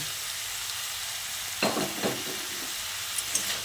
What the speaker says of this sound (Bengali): ভাজা আলুটা দিয়ে আবারও ঝিঙে, ডাল আর আলুটাকে খুব ভালো করে মিশিয়ে নিচ্ছি।